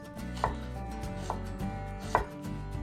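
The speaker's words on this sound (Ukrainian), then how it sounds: "Цибулю ми ріжемо на півкільця" A kitchen knife slices an onion into half-rings, three soft thuds on a board spaced unevenly with a light crisp crunch, close and fairly quiet with no voices.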